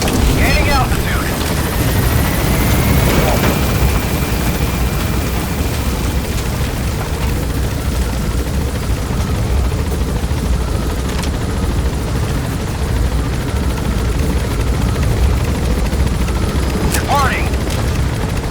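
A support helicopter lifts off on an extraction in Metal Gear Solid V: The Phantom Pain, its loud, unbroken rotor roar filling the scene, with occasional heavy booms and bursts of distant gunfire breaking through.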